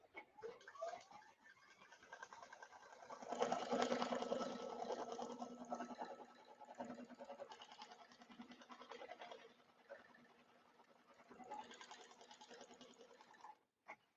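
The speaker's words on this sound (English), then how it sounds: "Embroidery and stitch down." A home embroidery machine stitches crosshairs onto lightweight stabilizer with a fast, continuous needle rattle at moderate, fluctuating level and no talk over it.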